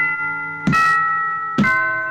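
A mallet-controlled electronic instrument laid out like a vibraphone triggers bell tones, two struck notes that each ring out with long, sustained sustain, clear and alone.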